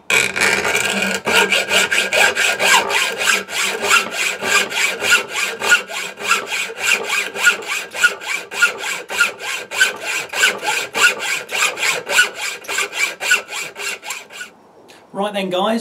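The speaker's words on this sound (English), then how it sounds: "I would definitely recommend starting with a fresh hacksaw blade" Fresh hacksaw blade sawing through wood for a carving knife, a close, loud, steady back-and-forth rasp of regular strokes lasting throughout before stopping, with a voice at the very end.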